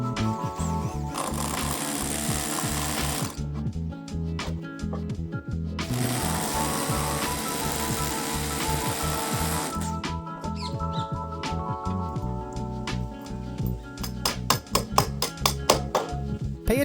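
A power drill is boring holes into a wall for sleeve anchors as a pergola ledger board is mounted, with a long steady whirring run, brief pauses, then a rattling hammer-like stretch near the end, close and loud.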